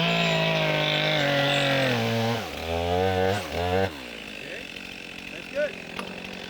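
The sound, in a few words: chainsaw cutting a tree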